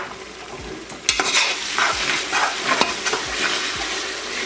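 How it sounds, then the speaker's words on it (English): A spoon stirs garlic and ginger paste into onions frying in oil for Hyderabadi mutton dalcha, a steady close sizzle broken by several sharp scraping clicks against the pan, with no talking. "I'll add in my garlic paste and my ginger paste as well and give it a quick stir."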